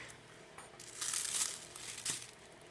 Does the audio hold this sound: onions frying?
no